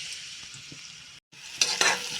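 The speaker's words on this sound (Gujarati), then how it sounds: "હવે આપણે એક કડાઈમાં તેલ ગરમ કરી તેમાં 1 વાટકી ડુંગળી ઉમેરશું" Chopped onion sizzling in hot oil in a kadai for pav bhaji, a soft steady fry with a short break and then a louder burst of sizzle as it is stirred.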